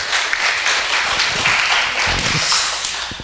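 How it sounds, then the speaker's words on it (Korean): A church congregation breaks into brief, lively applause during a baptism service. Many hands clap together for a few seconds and the clapping fades slightly toward the end. "박수를 쳐야지."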